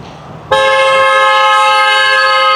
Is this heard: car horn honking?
yes